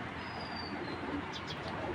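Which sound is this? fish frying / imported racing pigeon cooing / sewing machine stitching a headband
imported racing pigeon cooing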